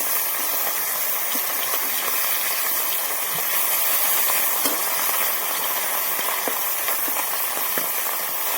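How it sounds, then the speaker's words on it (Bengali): Small carp fish fry in hot oil in a home kitchen pan, giving a loud, continuous sizzle crackling with dense spits and pops throughout. "ভেজে নেব ভালো করে, লাল করে।"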